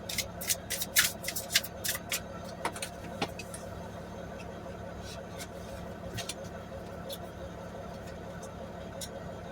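Tarot cards shuffled in a quick flurry of crisp riffling at the start, then faint occasional card slides over a steady low hum, with a voice talking throughout.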